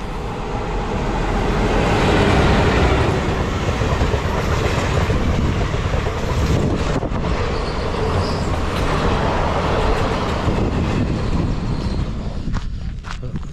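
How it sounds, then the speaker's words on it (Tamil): Nagercoil Express train rolling past near Anekal Road on the Bengaluru–Hosur line, a loud continuous rumble of wheels and carriages with rhythmic clatter over rail joints, sustained close by for the whole stretch. "So that was Nagercoil express."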